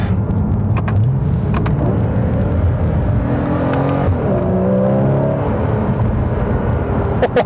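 A 2014 Porsche 981 Boxster sports car accelerates hard, its engine climbing through rising revs with a shift midway, loud and close with steady road and wind noise beneath.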